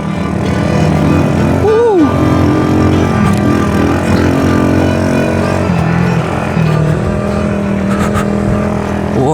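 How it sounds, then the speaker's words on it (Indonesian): A motorcycle crossing the Bromo sand sea on sandy terrain, its engine droning loud and close for the whole stretch with one quick rev rising and falling, a muffled voice faintly audible beneath. "di sini saya mau coba untuk sedikit trabas-trabasan karena mumpung nih ya, ban motor saya ini ban tahu nih, jadi sangat cocok dibawa ke medan berpasir seperti ini"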